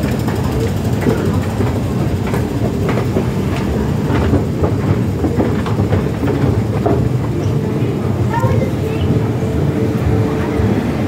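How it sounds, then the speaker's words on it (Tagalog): Hong Kong MTR train pulling out of a deep underground station, a steady low rumble with rhythmic clicking wheel noise throughout, moderately loud and continuous with no talk over it. "So yung isang train ay paalis na."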